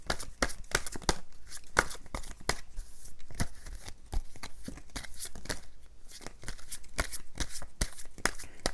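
Tarot cards being shuffled and drawn, their card stock thick like heavy cardboard. The close, crisp riffles and slaps repeat in quick irregular bursts throughout, with no talking.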